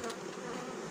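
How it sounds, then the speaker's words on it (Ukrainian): Honeybees fly out of homemade wooden beehives and fill the air with a steady close buzzing hum that lasts throughout the short stretch. "І непогано виходять бджоли."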